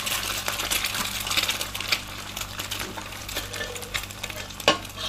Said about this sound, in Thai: ไข่ผมจะเจียวเป็น ไข่ดาวนะครับ